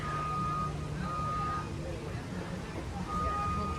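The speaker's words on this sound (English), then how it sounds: "A lot of chiming and beeping and stuff." Repeated electronic beeping from a construction vehicle at Disney's Animal Kingdom, moderately distant, heard over a busy background of crowd murmur and outdoor noise.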